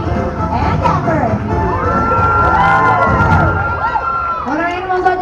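A live show audience, children's voices prominent, cheering, whooping and shouting loudly and continuously for two performing dogs on stage.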